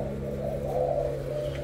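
Thai spotted doves coo at a bird seller's, a soft, low, steady coo held close over a constant background hum.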